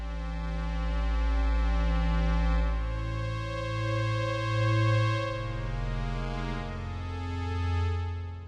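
A soft, sustained synthesizer pad patch called night fishing holds warm layered chords that shift slowly, gently swelling and fading in loudness with no voices.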